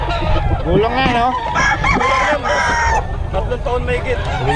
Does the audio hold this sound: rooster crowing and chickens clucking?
yes